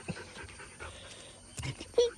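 A dog pants and whimpers softly near the listener with short breathy bursts, while a person talks quietly in the background.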